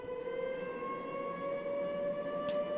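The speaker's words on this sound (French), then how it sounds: "Des sirènes avertissent la population à l'approche des forces de défense israéliennes." Civil defense sirens warn the population of Jenin as Israeli forces approach, a steady sustained wail with layered harmonic tones holding continuously at moderate, distant-sounding volume.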